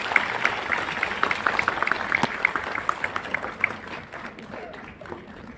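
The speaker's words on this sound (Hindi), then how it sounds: "आप इनका ताली बजाकर स्वागत कीजिए।" A welcoming crowd claps at a meditation event in Bodh Gaya, dense continuous applause with crisp individual claps, some voices mixed in underneath, tapering off toward the end.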